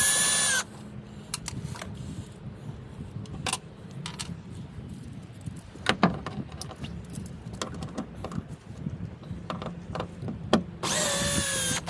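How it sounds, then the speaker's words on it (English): A power drill bites into the hull of a Parker 2820 XLD pilothouse boat in short, close whining bursts at the start and the end, with quiet tapping and handling noises between them. "The drill makes things go a little faster"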